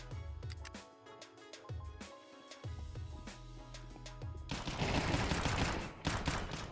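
Gunshots in the Counter-Strike Ancient map ring out in quick cracks over a steady tonal game bed, ending in a dense, loud volley.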